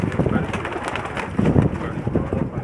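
A flock of Pakistani Shermeeli pigeons coos in soft, low, overlapping murmurs that carry on steadily at close range, with light wind buffeting the microphone.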